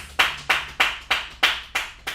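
Seven sharp, evenly spaced claps ring out at a steady beat, close and distinct, with nothing else heard.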